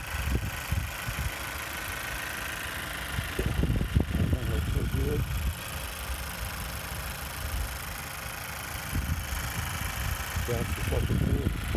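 A 2018 Chevrolet Malibu LT's Ecotec engine idles with a low, steady hum under the open hood, while someone talks nearby at intervals.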